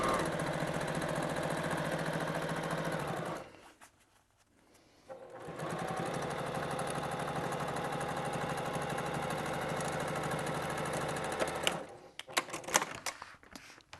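A sewing machine stitching suede with gold thread runs in a steady, fast, even whir, pausing briefly partway through before resuming, then stopping with a few clicks at the end; no talking.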